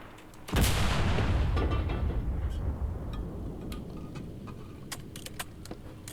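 A tank machine gun fires in the WW2 shooter game Enlisted: a loud, heavy burst starts abruptly, then trails off into a long rumbling decay with scattered sharp clicks, and no voices.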